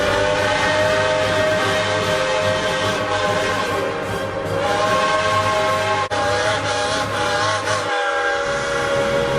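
A 2003 Lionel Pennsylvania Flyer model train hauls three passenger cars and a boxcar, giving off a steady, continuous running hum with sustained whistle-like tones and a brief thump near the end.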